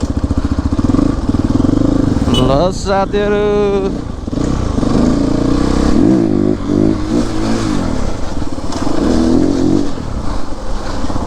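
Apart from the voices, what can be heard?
CrossX 300 motorcycle engine revving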